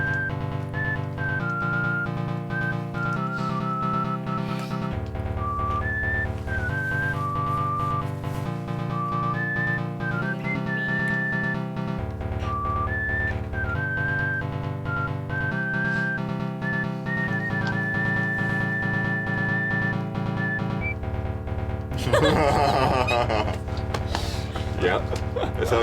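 A whistled melody, a tune rendered in a sound-font voice, runs as a clear sustained line over steady, loud backing chords, ending in a brighter, noisier burst near the close.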